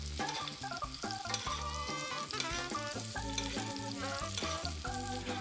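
Chicken frying in hot oil with a sprig of rosemary, a steady close sizzle with stirring and spattering throughout, no voices.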